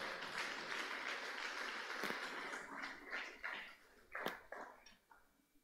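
A church congregation applauds during a sermon, a faint, distant wash of clapping that swells briefly and then thins out with a few scattered claps near the end.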